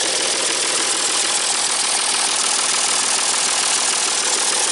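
A 550 running steadily after new fuel injectors were fitted, a constant dense mechanical drone at close range with no speech.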